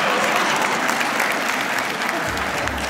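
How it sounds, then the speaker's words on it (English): Audience at a Mashpee Wampanoag reservation proclamation event giving a steady, full round of applause, a continuous wash of many clapping hands throughout. "Give me another round of applause."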